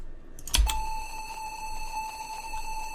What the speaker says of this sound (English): this was an already distorted sine wave that I had on my computer